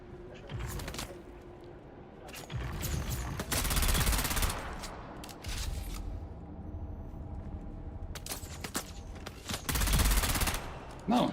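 Bursts of gunfire from weapons in the video game Dune Awakening, several separated volleys of rapid shots at moderate level, with game ambience and a voice talking between them.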